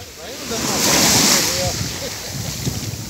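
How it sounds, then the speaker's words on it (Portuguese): Ocean surf rolls onto the beach at Caraguatatuba, Brazil, a broad rushing wash that swells and eases under wind buffeting the microphone, with faint voices in the background. "estamos na praia"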